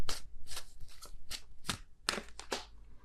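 A deck of tarot cards is shuffled by hand, close to the microphone. About eight quick, papery riffling bursts follow one another in an uneven rhythm, with no talking.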